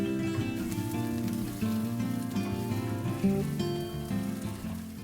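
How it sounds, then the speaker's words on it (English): Onions and dried peppers sauté in a hot pan, giving a steady, close sizzle that runs through the whole stretch under prominent background music. "Add in the dried peppers. Sauté for another 4 to 5 minutes."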